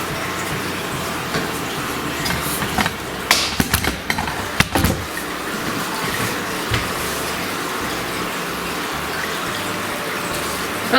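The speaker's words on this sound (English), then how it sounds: "Okay, let's fill up the water." Tap water gushes steadily into the plastic tank of a Hello Kitty humidifier diffuser, a continuous close splashing broken by a few louder knocks and clatters partway through.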